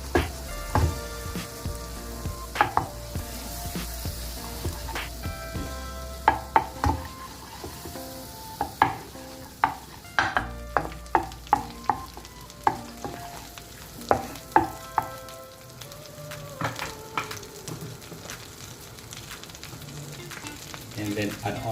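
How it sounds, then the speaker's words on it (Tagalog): Butter melts and sizzles in a pan over low-medium heat for chicken quesadillas, a steady close frying crackle with scattered sharp pops and clinks of a utensil against the pan. "slowly add on the butter. Let it melt. Low medium heat fire."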